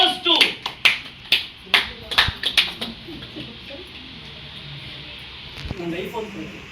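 An audience clapping for a lucky draw winner, with a series of sharp, distinct claps up close that thin out and stop partway through, leaving quieter room noise and faint voices.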